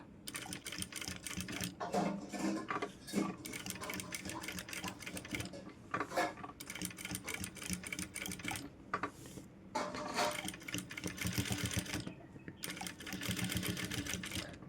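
A sewing machine stitches blouse fabric in rapid mechanical bursts, running in short stretches with brief pauses between them, loud and close.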